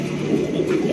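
A fancy pigeon offered for sale coos near at hand in a low, throaty, continuous rolling call, with no talk.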